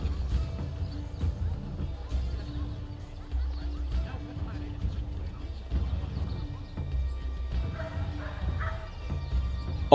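Dog barking in Assassin's Creed 3 Remastered, several short woofs in bursts over a low game ambience with faint hoof clops, fairly quiet and spread across the scene.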